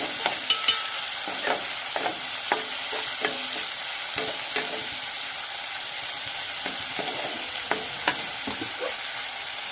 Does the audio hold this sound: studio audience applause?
no